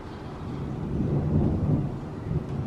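Rain starting during a thunderstorm, a broad steady wash of falling rain with a low rumbling undertone that swells slightly and then eases, heard outdoors with no one speaking.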